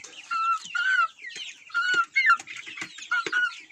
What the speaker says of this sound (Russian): Вот два ленинградских петушка.